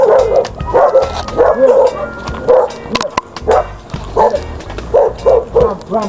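A dog barks repeatedly and loudly close by, a rapid run of sharp barks and yips in an irregular rhythm with short gaps between bursts.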